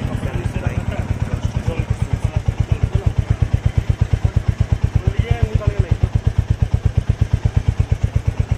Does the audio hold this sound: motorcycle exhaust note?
yes